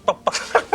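Several chickens clucking in short bursts, four quick squawky calls spaced across a brief moment, fairly close, in a quiet rural farmyard setting.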